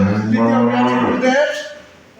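A single loud, close dairy cow moo, drawn out and falling in pitch, then fading.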